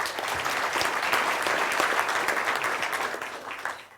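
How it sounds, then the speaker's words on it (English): A live audience at a ratepayers' mayoral event in New Plymouth breaks into sustained applause, dense and steady, fading out near the end. "A round of applause."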